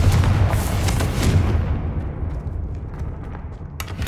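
A Confringo blasting spell from Hogwarts Legacy erupts as a loud, booming explosion that rumbles and then fades into a long roaring decay, with a couple of faint crackles near the end.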